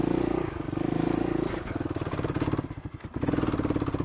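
A motorcycle engine in first gear bogs on a dirt trail in Warner Valley, a loud, close, throbbing idle that stumbles and sputters unevenly mid-way before settling back into a steady chugging rhythm.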